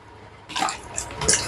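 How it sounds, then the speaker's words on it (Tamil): Water sloshing and splashing as dried fish (karuvadu) is washed by hand, starting after a quiet moment with a few close bursts of swishing liquid. "ரெண்டாவது வாஷ், இப்போ மூணாவது வாஷ் பண்ணுறேன் பாருங்கள்."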